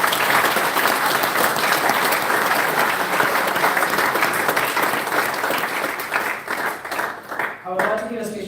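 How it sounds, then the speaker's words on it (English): Dense, sustained crowd applause at a football club's senior prize giving, loud and steady for several seconds before tapering into scattered claps as voices come in at the end. "let's give them all a round of applause"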